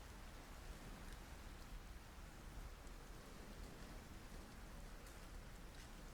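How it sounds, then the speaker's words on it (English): Steady rain patters down in a soft, even hiss that stays constant throughout, with no clear thunder rumble standing out. "you do hear the pitter-patter of the rain and the rolling thunder"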